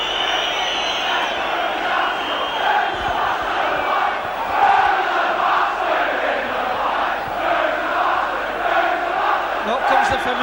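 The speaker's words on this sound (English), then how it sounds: "familiar chant, but I won't repeat the words." Football crowd chanting at a Blackburn Rovers v Leeds match from the 1989-90 season, a loud, sustained mass of voices in rhythmic surges from the stands, with a commentator talking over it.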